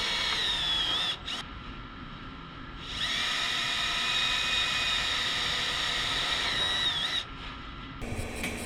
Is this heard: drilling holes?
yes